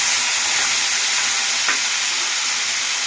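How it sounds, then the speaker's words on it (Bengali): Potatoes fry together in a pan with a loud, even sizzling hiss and light stirring, one brief clink midway, close and continuous with no talking. "সব আলু একসঙ্গে দিয়েছি দিয়ে আমি ভেজে নেব"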